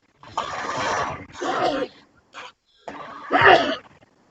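A loud sneeze bursts out after a couple of breathy, sputtering exhalations, close to the listener, with short pauses in between.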